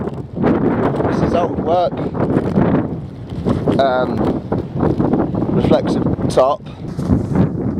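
Strong wind in the Peak District buffets the microphone in a steady roar while someone talks close by throughout.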